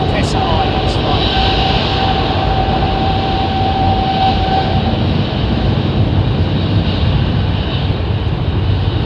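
Airplane departing London Heathrow Airport, a loud continuous broadband engine roar that holds steady throughout, with a faint tonal whine early on.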